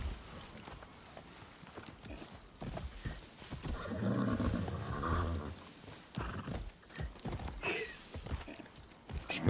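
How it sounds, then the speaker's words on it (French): A horse in Far Cry 6, with hoof clip-clops and snorting or whinnying building to a louder, throaty bray midway, then scattered hoof thuds and movement noises, heard alone without talk. "Je peux pas grimper sur le cheval"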